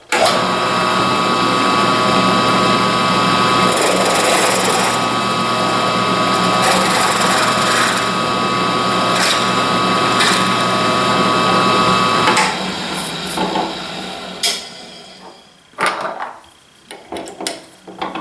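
A drill bit cuts to enlarge a hole in a DIY thumb wheel, a loud continuous whining grind for about twelve seconds, then winding down into scattered scraping and handling sounds.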